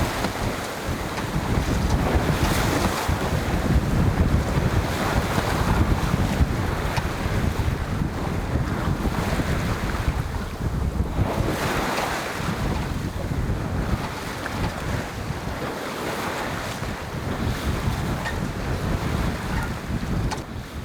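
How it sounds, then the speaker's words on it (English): Wind and waves heard from an aluminum boat crossing the Gulf of Alaska, a constant loud wash of rushing wind and surging water with heavy microphone buffeting and no voices. "right after this the wind started turning against us"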